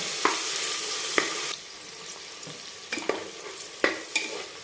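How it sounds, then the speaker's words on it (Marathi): Mutton fat pieces fry in hot oil, sizzling up close while a spatula scrapes and stirs them in short bursts, the hiss dropping and swelling with each turn. "चरबी तळून घेणार आहे या तेलामध्ये"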